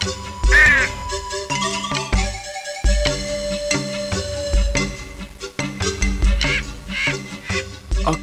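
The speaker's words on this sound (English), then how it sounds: "A crow who was dying with thirst landed on a deserted house." A crow caws a few times within a cartoon story scene, its calls mixed under a music score.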